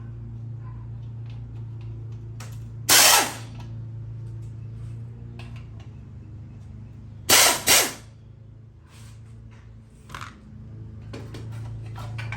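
A power tool removes the 5/16 and 3/8 bolts holding the pull cover on a Craftsman with a 4.5 Tecumseh engine. It fires in two short, loud bursts, the second a quick double, over a quiet background hum.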